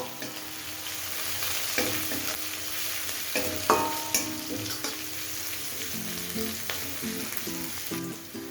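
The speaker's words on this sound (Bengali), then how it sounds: "সেই সাথে বেশ কিছু কারি পাতাও অ্যাড করে দেব। এগুলো হালকা একটুখানি নাড়াচাড়া করে নেব।" Green chilies and curry leaves stir-frying in a pan for chicken 65, an even close sizzle with intermittent scrapes and taps as they are tossed, no speech.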